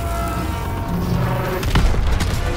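Planted explosive charge detonating in the Call of Duty: WW2 campaign on Hill 493, a deep rumbling boom with a sharp crack near the middle, set against continuous loud battlefield noise.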